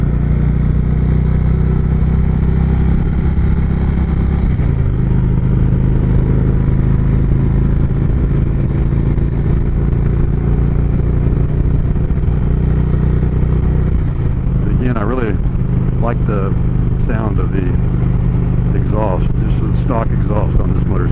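A motorcycle engine on the road between Lincoln, New Hampshire and St Johnsbury, Vermont gives a steady, loud low rumble throughout the ride, with a person talking over it.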